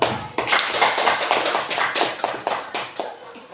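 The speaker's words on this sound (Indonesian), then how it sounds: "Mari kita Berikan aplaus untuk kita semua." A small group applauding at a school principal's vision and mission presentation, quick uneven claps close by, lasting a few seconds and tapering off.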